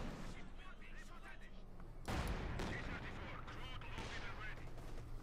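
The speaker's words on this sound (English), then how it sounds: "T-35 shooting at the MG-34." A T-35 tank fires at an MG-34 machine gun team in the Company of Heroes 2 strategy game, a sudden heavy boom followed by continuing battle noise and gunfire, with a commentator talking over it.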